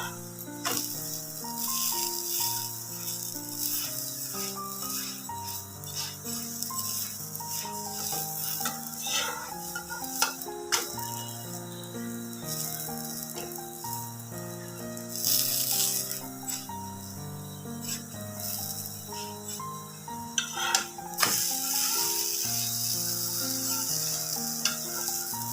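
A spring onion cheese paratha fries in ghee on a pan, giving a steady soft sizzle with occasional crackles under continuous melodic background music.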